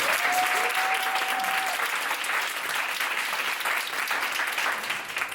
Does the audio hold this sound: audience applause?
yes